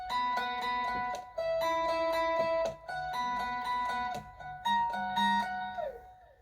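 Higher lead guitar line from the worship song "In His Name" by EMU Music, picked notes repeating in short phrases over a lower part, clear and steady with brief gaps, no talking.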